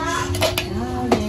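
A big metal cooking pot is handled during New Year food preparation, giving a few sharp metallic clanks and scrapes against a quiet kitchen background.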